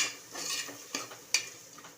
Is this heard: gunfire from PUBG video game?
no